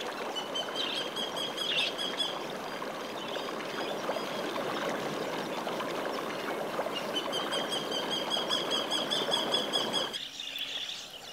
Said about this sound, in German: Vögel singen.